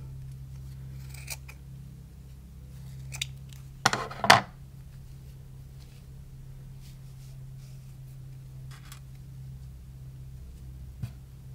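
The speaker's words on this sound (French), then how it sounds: "je vais couper à une des extrémités" Scissors snip through cotton cord, a sharp cluster of close cuts in the middle against a quiet room hum, with a few faint clicks before and after, no talk.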